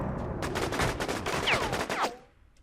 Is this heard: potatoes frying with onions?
no